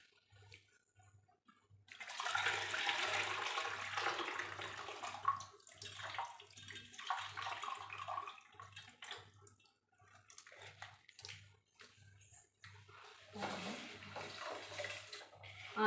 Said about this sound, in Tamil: அரிசி கழுவிட்டு போட்டுருவோம்.